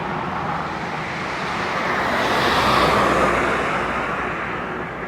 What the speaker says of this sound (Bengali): এটা হাইওয়ে।